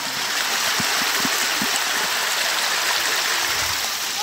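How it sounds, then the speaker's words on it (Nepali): Water rushes from a mountain stream on a trek to a fair in Nepal, a steady loud gurgling flow with a few soft knocks of a bottle being filled, no talking. "सो एक बत्तल पानी पनि भरियो"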